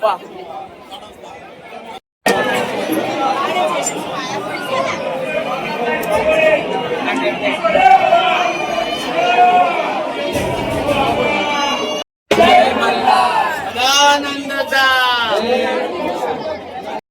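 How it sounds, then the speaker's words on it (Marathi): A dense crowd queueing at Jejuri temple, with steady overlapping chatter and babble of many voices close around, broken by two brief dropouts; a nearby voice speaks over the hubbub toward the end. "साध्यासाठी किती लाईन आहे तुम्ही बघा. एवढी गर्दी आहे."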